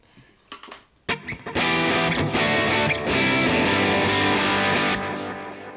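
A distorted electric guitar through a cranked amp model on a Line 6 HX Stomp starts with a few sparse picked notes, then bursts into loud, sustained, heavily overdriven chords that ring on before fading slightly.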